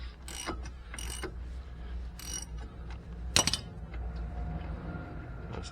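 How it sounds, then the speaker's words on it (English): A ratchet clicks in short bursts while brake carrier bolts come off a Vauxhall Corsa, with a sharp metallic clink partway through, all fairly quiet and close. "Let's just continue to remove these bolts."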